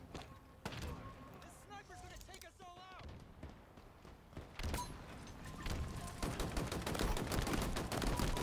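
Sniper rifle fire and a firefight in Halo Infinite: repeated sharp gunshots and bursts of weapon fire over steady game noise, with a loud dense stretch of rapid impacts toward the end and a player's voice talking at points.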